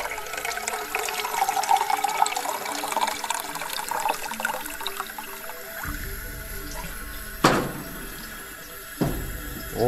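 Water pouring into a camping coffee pot, a running, splashing stream for several seconds that stops, followed by a couple of sharp knocks and clatters.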